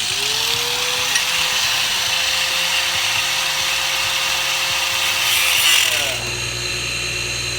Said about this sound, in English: I'm just gonna cut a nice little sliver out of it that's a little thicker than the bottom of that seatbelt bracket